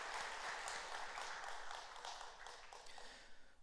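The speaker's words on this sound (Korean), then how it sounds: "우리 시원성가대에서 다시 한번 뜨거운 박수 부탁합니다" Church congregation applauding the choir after a Christmas Day cantata service, a dense wash of clapping that holds steady, then thins slightly toward the end.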